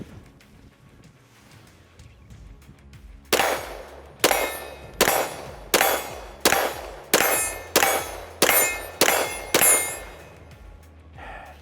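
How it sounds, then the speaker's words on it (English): Walther PDP Pro SD pistol fitted with a Parker Mountain Machine compensator firing a string of about nine loud shots at a steady, fairly quick pace, each with a sharp crack and a short ringing decay. "Let's shoot the Walther PDP Pro SD with that Parker Mountain Machine Comp"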